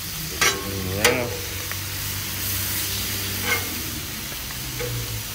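Calf liver and onions sizzle on a Blackstone griddle, a steady hiss broken by sharp scrapes and clanks of a spatula stirring and turning the food, with a faint low hum beneath.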